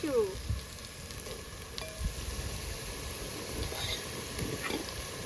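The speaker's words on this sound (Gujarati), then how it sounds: "હવે નાખવાનું છે આપણે મરચું" Chili fries in hot oil with a steady, close sizzle, broken by a few clinks and stirring scrapes near the start.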